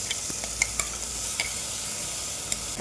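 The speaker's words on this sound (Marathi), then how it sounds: "आणि हे आपलं पुदिन्याचं वाटण टाकून देऊ त्याच्यामध्ये परतायला" Mint paste being stirred and sautéed in a pan with tomatoes while making green pea rice: a steady soft sizzle with a few sharp scraping clicks of the spoon against the pan.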